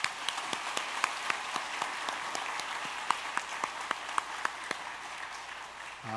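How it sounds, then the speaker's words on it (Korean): A church congregation claps together during a Sunday afternoon service, with rapid, even hand claps that are moderately distant and sustained for several seconds at a fairly soft level. "우리 강서교회 박수 한번 해주십시오."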